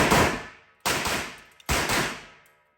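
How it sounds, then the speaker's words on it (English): Three sharp pistol gunshots from a Shadow Systems XR handgun fitted with an all-steel compensator, fired outdoors at a steady spaced rhythm, each a loud close crack with a fading echo. "we will now shoot this all-steel compensator"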